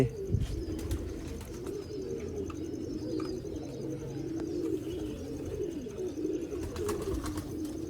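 Rare Mian Nazir bloodline pigeons coo steadily and close by on a rooftop loft in Sialkot, a continuous low rolling murmur with occasional sharper clicks and calls.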